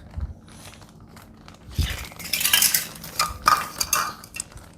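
Brown sugar is scooped into a baking bowl in a home kitchen, a spoon scraping and clinking against the dish with gritty rustling in several close, uneven bursts.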